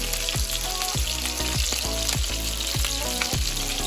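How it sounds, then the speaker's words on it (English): Hot Italian sausage frying in a pan for Sunday gravy, a steady loud sizzle with repeated sharper scraping strokes about every half second, no talking. "Now we're gonna fry up some hot Italian sausage."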